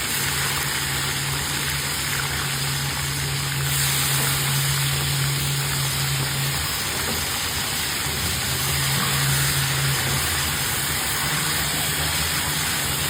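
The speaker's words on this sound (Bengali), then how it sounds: "এখানে আমি এখন চিকেনগুলো একটু ফ্রাই করে নেবো।" Chicken pieces frying in 200 grams of hot mustard oil give a steady, close, even sizzle that holds for the whole stretch, with a low hum running underneath and no talking.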